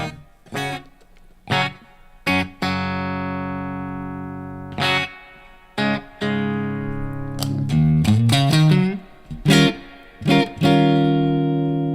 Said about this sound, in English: when you have a beautiful lush reverb like this on the classic reverb, let's hear it